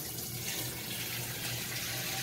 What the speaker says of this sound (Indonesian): Ini seledri dicuci dulu.